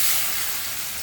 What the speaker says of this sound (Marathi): सर्वप्रथम आपण मोहरी घालू, जिरे घालू,